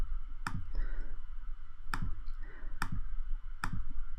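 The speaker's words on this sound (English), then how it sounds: "So there's lots and lots of clicking." Computer mouse clicking while coding in the Micro:bit editor, four sharp, fairly loud clicks at irregular intervals over a low background hum, with no talking.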